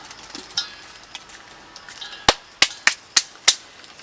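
Onions for a beef curry fry in a pan, giving a soft sizzle that is joined by several sharp, close spoon knocks against the pan near the end.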